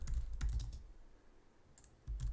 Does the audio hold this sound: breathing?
no